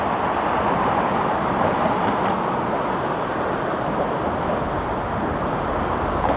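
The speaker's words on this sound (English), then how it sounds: "And I can hear a subway train passing underneath." A subway train rumbles beneath a Toronto bridge above the Don Valley Parkway, its loud, steady low roar blending with nearby road traffic for the whole stretch, with no talking.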